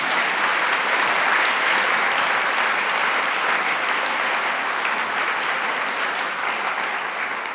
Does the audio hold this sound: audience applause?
yes